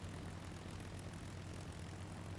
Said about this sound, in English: I'm slowing down the engine throttle.